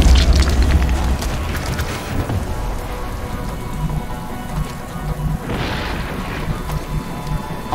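A grenade blast in XCOM: Enemy Within lands as a heavy rumbling boom at the start, followed by crackling debris and a low sustained roar that fades under scattered rattling.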